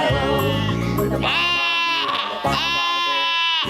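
A boy imitates a sheep with several bleating baa calls in a sung farm-animal nursery rhyme, each call strong, wavering and drawn out.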